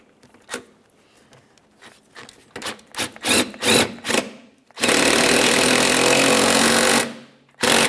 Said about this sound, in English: We may have to use a ratchet.